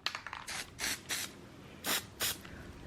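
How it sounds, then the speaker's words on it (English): Spray glue hisses from a line nozzle onto a fabric edge while armor is remade, coming in five short close bursts separated by brief pauses. "when I am gluing this, I am trying to keep the glue as close to the edge as possible, so I'm not just spraying all the fabric"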